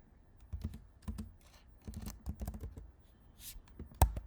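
Fingers type on a computer keyboard in short bursts of crisp, close key clicks, pausing briefly between clusters and ending with one sharper tap, with no talking.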